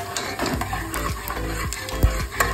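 Whole cumin seeds crackling in hot oil for chicken kosa, a dense close sizzle with rapid pops and repeated scraping strokes of a spatula stirring through the pan.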